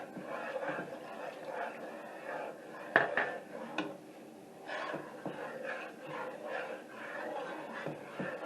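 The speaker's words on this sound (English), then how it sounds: "Again, you have to stir this constantly." Thickening blueberry pie filling with lemon juice is stirred constantly in a pot, the spoon clinking and scraping against the metal in soft, irregular knocks with a sharper clang partway through.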